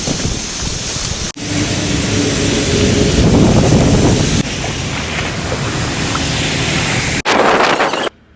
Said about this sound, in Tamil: கண்டினியூஸாக இந்த மாதிரி ஃபுல்லாக தண்ணி போய்கிட்டே இருக்குது